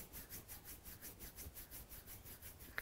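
Fingers rubbing along the bridge of the nose in a steady back-and-forth rhythm, very soft and close, with a tiny click near the end.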